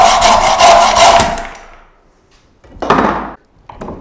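A hacksaw cuts through a threaded rod clamped in a vise with a split nut, giving steady, loud rasping strokes for over a second, then a pause and two shorter, quieter strokes near the end.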